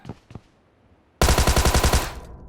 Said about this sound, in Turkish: Radyo kulesi bir de laboratuvar tarafından çatışma sesleri geliyor